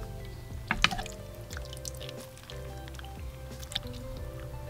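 Beef tendon soup is poured over rice in a short, close series of liquid splashes and drips, with a low background hum and no talking.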